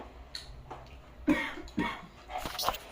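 A few separate coughs ring out close by, spaced irregularly with quiet gaps between them.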